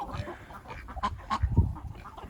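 Ducks kept near a backyard chicken pen and hen house honk and quack in short, uneven bursts at close range, with a couple of louder calls midway over low rustling.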